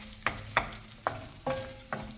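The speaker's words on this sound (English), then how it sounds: "And stir it good too, like you're stirring soup." Eggs and garlic are stirred in a pan for egg hakka noodles, five distinct scraping knocks of a utensil against the pan spaced about half a second apart over a faint frying hiss.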